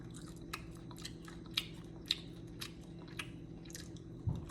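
Crisp, close-up crunching of french fries, with repeated bites and chews in an uneven rhythm, sharp crackles over a quiet, steady room hum.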